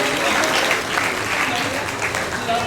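Enthusiastic applause from an audience at a school award ceremony as a student is honoured for third position, continuous clapping with faint voices mixed in.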